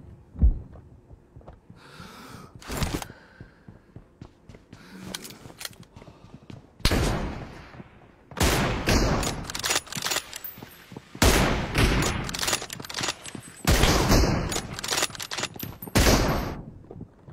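Gunfire in the mobile battle royale game BGMI: bursts of automatic weapon fire and single loud shots recurring throughout, some rapid volleys, loud and close, with no talk.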